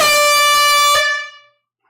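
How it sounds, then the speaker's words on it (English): A loud air horn blares in one sustained, rich blast at a live vinyl record sale, cutting off abruptly after about a second and ringing out briefly before silence. "And I'm going to blow the air horn."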